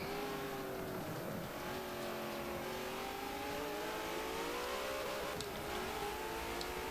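Race cars in a racing video game battle side by side, engines revving and shifting pitch continuously at a steady moderate level, with no talk over them.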